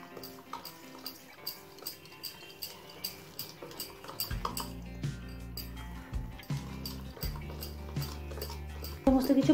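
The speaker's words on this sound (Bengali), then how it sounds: "এবার এই সব কিছু ভালোভাবে মিশিয়ে নেব।" Gram flour, baking soda, baking powder and powdered sugar stirred together in a bowl for a sponge cake, with light repeated scraping and tapping of a spoon against the bowl, under soft background music.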